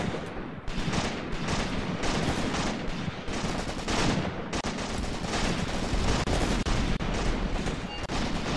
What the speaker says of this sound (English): lots of firing going on now.